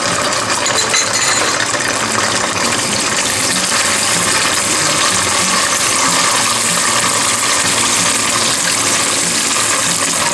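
Ají mirasol chilies fry in hot oil, giving a dense, continuous sizzle and crackle that stays loud and steady throughout with no pauses.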